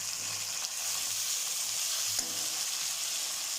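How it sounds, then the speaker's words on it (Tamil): Tomatoes frying in a hot pan for Pondicherry-style fish curry, a continuous loud bright hiss of sizzling oil with a couple of faint stir clicks, no voices. "இது வந்து தக்காளி 3 தக்காளி போடுறோம்."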